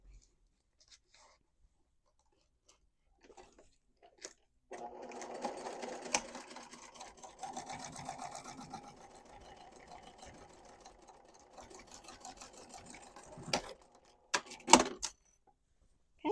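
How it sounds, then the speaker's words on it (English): A sewing machine stitches in the ditch on a quilted cube bag, starting after a few quiet seconds and running at moderate volume for about nine seconds, then stopping, followed by a few sharp handling clicks. "I'm going to flip it over and I'm going to stitch in the ditch, making sure that I catch that edge on the back."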